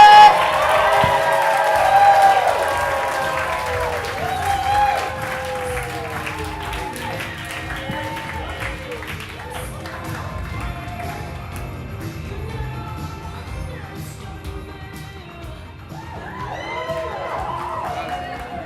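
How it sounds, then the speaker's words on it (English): A comedy club audience claps and cheers as a stand-up comedian is brought on, a full burst of applause that slowly thins and then swells briefly again near the end, with a voice talking over it. "start clapping, start getting the energy up for Sean"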